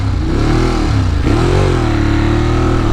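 A 2018 Ducati Monster 821 engine rumbles loudly and steadily while riding around NYC, its pitch climbing and dipping through a couple of revs, close and continuous with no talk.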